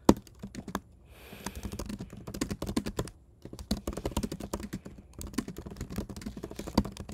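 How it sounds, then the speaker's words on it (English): Typing on a computer keyboard, a close, brisk run of clicky keystrokes with short pauses, steady and alone without talk. "you will see that I can type what I want in it."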